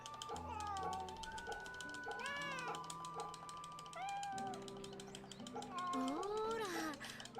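A cat meows repeatedly in the game Fate/Samurai Remnant, several rising and falling cries close up over a steady layer of game music.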